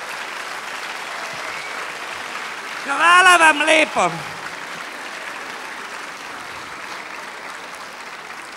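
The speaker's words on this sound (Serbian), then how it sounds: "Ajte vi ostali, aplaudirajte im da se čuje cijela sala." An audience in a hall claps continuously and fills the room with a dense, even wash of applause, while a voice speaks briefly over it in the middle.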